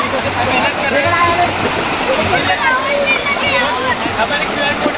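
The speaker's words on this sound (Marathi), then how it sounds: "ये देखो ये अंकल लोग धबधबा लगा रहे हैं हमारे लिए" Man-made waterfall at Sanjay Gandhi National Park in Borivali, a steady rushing splash of falling water, loud and continuous throughout.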